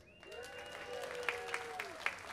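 Applause from a comedy club audience, a scattered clapping that builds under a sustained voice, with a few sharper claps standing out near the end.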